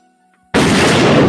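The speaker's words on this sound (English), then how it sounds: "Where's my goddamn gunshot?" A single gunshot sound effect goes off abruptly after a brief silence, a loud blast with a sustained broadband roar that fills the rest of the moment.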